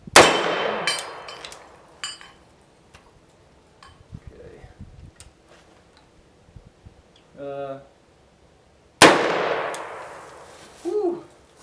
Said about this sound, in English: Just for fun, what would happen if I shot that target?